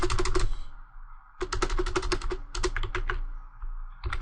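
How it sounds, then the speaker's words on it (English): Fingers type a title on a computer keyboard in quick clattering runs of keystrokes, close and clear, separated by brief pauses. "So let's type another title."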